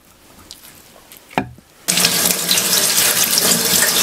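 A gutted flounder is rinsed under a running kitchen tap. After a faint clatter and a short lull, water gushes steadily and loudly into the sink, close by, without speech.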